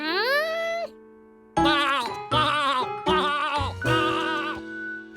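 Cartoon sheep bleats: one long wavering bleat, a short pause, then four more bleats in a row, close and clear, with a quiet musical backing.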